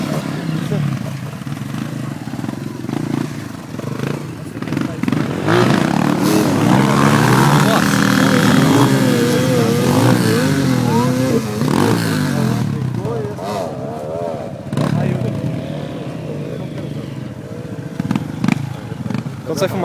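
Two-stroke motorcycle engine revving at a trail ride gathering, a loud rising and falling buzzing drone that swells in the middle and fades, with people talking throughout.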